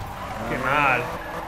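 A car skids in a Need for Speed video game: a short tire squeal swells to a peak midway over a rumbling engine, then fades as the car slides.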